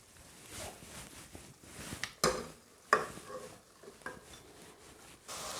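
Finely chopped button mushrooms and onion fry in a pan for mushroom risotto, with a soft sizzle and intermittent scraping, clattering stirs of a utensil against the pan.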